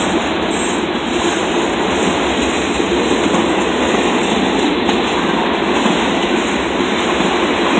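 A long CSX freight train rolls past in Altamont, Illinois, loud and close, with a continuous roar of wheels and steady rhythmic clacking on the rails for the whole stretch.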